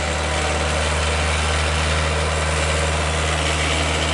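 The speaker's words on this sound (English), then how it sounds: "Right now, she is in a high idle because they start off with a high idle." A Suzuki Samurai engine holds a steady high idle close by, with a constant loud drone and an even low hum that never changes pitch, and no talk over it.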